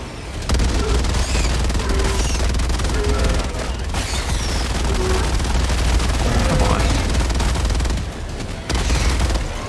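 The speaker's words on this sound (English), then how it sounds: "I really love that the machine gun doesn't have... Like, it doesn't heat up, you know?" A machine gun fires continuously in the video game Helldivers 2, loud dense rattling over heavy low rumble, with brief breaks in the barrage and faint chatter from players mixed in.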